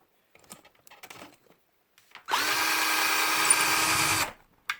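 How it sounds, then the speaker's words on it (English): A power drill unscrewing screws: a few light handling clicks and taps, then one loud, close, sustained whir lasting about two seconds before stopping. "We're gonna unscrew things."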